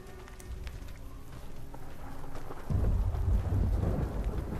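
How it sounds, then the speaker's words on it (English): Thunder rumbles in the Fallout video game as a modded character shows off futuristic NCR body armor, a low rolling roar that swells louder about halfway through amid steady rain-like hiss, with no talk. "Oh, the thunder."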